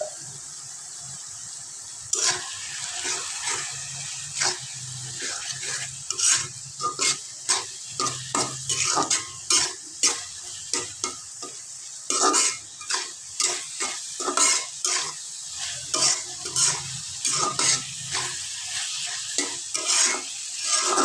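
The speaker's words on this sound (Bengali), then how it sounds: "মশলাটা কষাই আবার একটু ভালোভাবে কষাই নেব।" Chicken pieces coated in chilli powder and meat spice mix, fried in a pan for a mango-pickle chicken dish. Repeated scraping stir strokes come in quick irregular bursts over a continuous close sizzle, with no talking.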